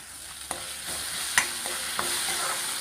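Lemon rice is stirred and fried in a pan, a steady sizzle running throughout with a few sharp scrapes and clinks of the spoon against the pan, close by and with no talk.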